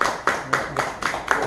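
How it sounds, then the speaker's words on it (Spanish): A small audience applauds Javier at a pottery-making demonstration in Mexico, with several distinct, fairly close claps at a steady, moderate rhythm. "Un aplauso a Javier, por favor."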